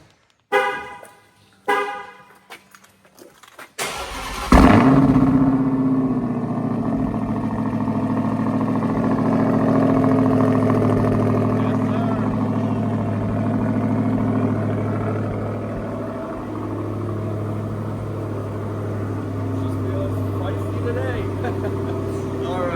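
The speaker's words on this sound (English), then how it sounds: "let's go ahead and get this started for a moment. Cold start." A tuned Redeye car cold-starts in a quiet garage: a few clicks, a sharp crank and bark, then a loud, steady idle rumble with a faint whine that fills the rest of the clip.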